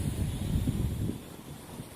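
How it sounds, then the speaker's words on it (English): Wind blows outdoors during a small FQ777 FQ31 drone flight, a low rushing buffet against the microphone that is steady and fairly faint across two seconds. "the wind's getting a little stronger here"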